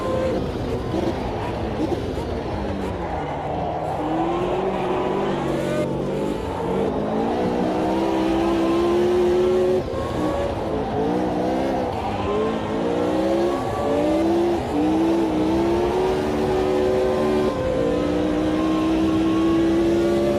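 Historic open-wheel race cars in the Automobilista 2 sim racing game, engines rising and shifting through gears steadily for the whole stretch, loud and close, with someone talking over the engine note at times.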